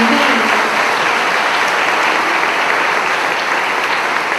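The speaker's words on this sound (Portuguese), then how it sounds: "Palmas para Jesus" A church congregation claps loudly and continuously in praise, a dense, sustained roar of hands filling the space without any talk.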